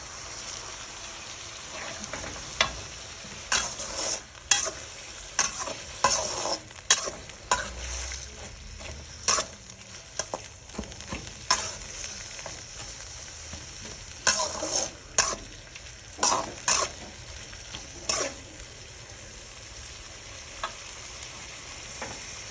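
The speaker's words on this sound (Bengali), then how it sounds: "আদা বাটা রসুন বাটা সেইটাকে একটু ভালো করে ভুনে নিয়েছি" Ginger and garlic paste with chili and turmeric powder fries in a pan for chicken khichuri, giving a constant low sizzle broken by repeated sharp scraping clicks as it is stirred throughout.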